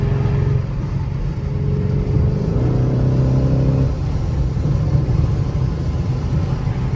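Stage 2+ Lamborghini Urus with a twin-turbo V8 on a morning drive in Miami, giving a deep, steady rumble from inside the cabin that swells briefly in a low rev rise before settling back to a cruising drone.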